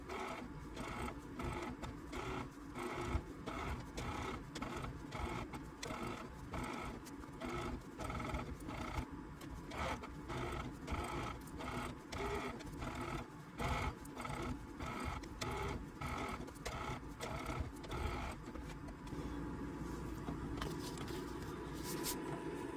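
A sewing machine stitches down a Dresden quilt block, a quiet rapid mechanical chatter running in steady bursts with brief pauses between runs.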